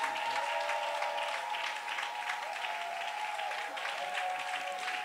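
A church congregation applauding, sustained dense clapping from many hands that holds steady for several seconds with a faint tonal hum beneath, moderately close and fairly even in loudness.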